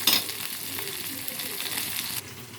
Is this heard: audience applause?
no